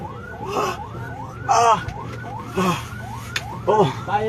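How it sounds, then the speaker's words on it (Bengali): An ambulance siren on its way to a hospital during street protests in Bangladesh, a loud, fast-cycling wail that repeats steadily while people shout nearby. "ভাই অ্যাম্বুলেন্স কই যেতেছে"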